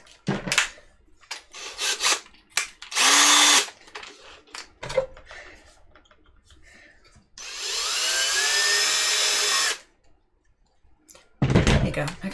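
Bursts of a power tool whirring and drilling in short runs and one longer stretch, with clicks and clanks of tools between, close by.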